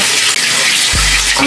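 Water runs loudly and steadily from a tap as a face is washed, a continuous close hiss with a brief splash change near the end and no talking.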